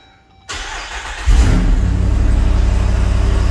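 A 2021 Jeep Wrangler Rubicon 392 V8 with performance exhaust cranks and fires up, jumping to a loud, deep rumble that settles into a steady, throaty idle close by.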